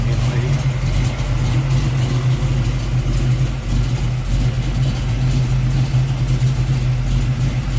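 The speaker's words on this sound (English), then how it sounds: "Nice sounding engine. Smooth runner." A 1969 AMC AMX V8 with headers and an Edelbrock carburetor idles steadily with a deep, even rumble, close by and continuous, with faint voices mixed in beneath the drone.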